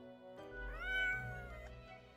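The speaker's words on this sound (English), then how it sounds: "Meow, the cat replies absent-mindedly." A cat meows once in the video game Death and Taxes, a drawn-out, rising-and-falling mew heard clearly and close over a low steady hum, with no talking.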